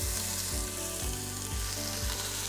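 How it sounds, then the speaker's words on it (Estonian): Potatoes and onions sautéing in about two tablespoons of butter in a pot for a creamy potato-salmon soup, a dense continuous sizzle with a steady low rhythmic thump roughly twice a second, close, no talking. "Nüüd ma passeerin nad kergelt siin võis läbi."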